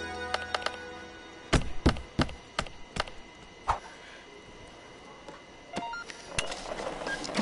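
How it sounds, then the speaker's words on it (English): A burrito printer in the Job Simulator video game whirs and clunks, with a series of sharp mechanical thunks and clicks at irregular intervals and faint electronic tones, no talking. "I call this the burrito printer"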